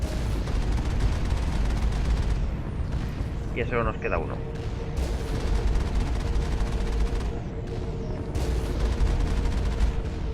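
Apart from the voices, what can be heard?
turret gunfire in video game Mass Effect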